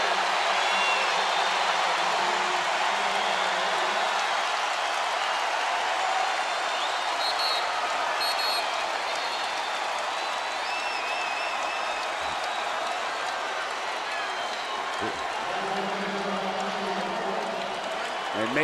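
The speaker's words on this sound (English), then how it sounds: "Crowd on its feet." Basketball arena crowd at the 2014 Big 12 Championship, Iowa State against Baylor, cheering and applauding steadily with a dense, loud roar throughout, as a commentator talks over it.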